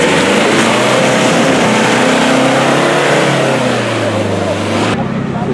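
A Khishchak off-road vehicle roars past close by, its loud engine revving and changing pitch before cutting off abruptly, with voices under the noise.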